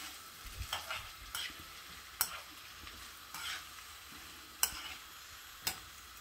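A spoon stirs a pot of Jamaican brown stew red snapper, giving a few soft scraping strokes and sharp clinks against the pot over a quiet simmering hiss, close and fairly faint.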